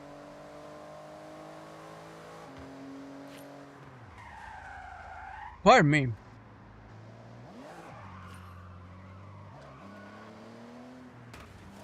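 In the Forza Horizon video game, a car engine hums and shifts, then a sudden loud crash into traffic with a sharp skid burst cuts through, followed by the engine carrying on; a voice briefly speaks.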